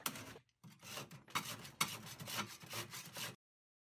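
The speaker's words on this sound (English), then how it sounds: "I figured I could use this big rasp, and it really cuts off the material pretty quickly" A big rasp files down a metal lathe headstock part in close, loud, rhythmic strokes, each a harsh scraping rush separated by brief pauses, before stopping abruptly.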